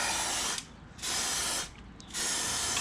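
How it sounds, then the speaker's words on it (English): Aerosol cleaner sprayed onto a bicycle chain from the inside: two long hissing bursts with a short pause between, close and loud, followed by a third burst. "spray from the inside"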